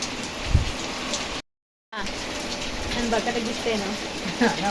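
Heavy rain pours steadily in a village, a dense, loud wash of drops that continues throughout, cut by a brief gap of silence, with faint voices in the background.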